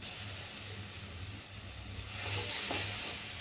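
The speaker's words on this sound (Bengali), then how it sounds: "রসুনটাও লাল লাল করে ভেজে নেব" Garlic paste sizzles steadily in hot oil with fried bay leaves, a continuous close hiss that swells slightly toward the end, with a low hum underneath.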